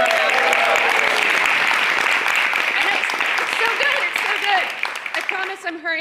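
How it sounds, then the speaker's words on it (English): A theatre audience at a new play festival bursts into a round of applause for the playwrights, full and continuous before thinning out, with voices and a few cheers over the clapping near the end. "so give them a round of applause"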